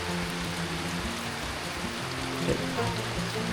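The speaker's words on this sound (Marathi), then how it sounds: "रिमझिम रिमझिम रिमझिम रिमझिम पाऊस सुरू आहे" Light drizzling rain falls steadily outdoors in a village, making a soft, even patter with a low background hum and no voices.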